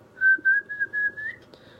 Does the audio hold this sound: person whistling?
yes